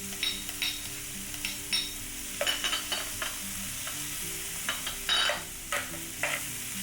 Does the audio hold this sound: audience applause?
no